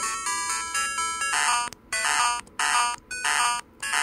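Slowpoke's cry from Pokemon Silver, a chiptune sequence of harsh, buzzy electronic beeps in short repeated bursts with brief gaps, like an error tone, lasting a few seconds.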